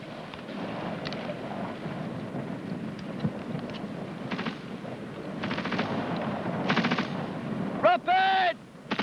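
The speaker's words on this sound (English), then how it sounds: "watching the movement of the rifle group so that covering fire can be given at critical moments" A rifle section lays down covering fire during a military fire-and-manoeuvre drill, with a steady rumble of distant and near gunfire and bursts, while voices shout over it.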